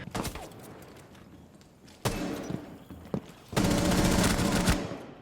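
Gunfire in the game Rainbow Six Siege, with a few sharp bursts early, then louder sustained automatic fire and thuds near the end, loud and close with no talking.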